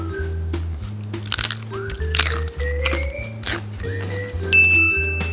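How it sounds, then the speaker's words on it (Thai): Crispy pork crackles under repeated close bites and chewing, a series of loud crunches in irregular bursts, with steady tonal background music underneath and no speech. "ขอชิมรสหมูกรอบก่อน นายหมูกรอบกรอบจริงหรือเปล่า"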